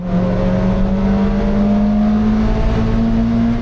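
Race cars roar off the start line in a racing video game, a loud, steady engine drone whose pitch climbs gradually as the pack accelerates, with no talk over it.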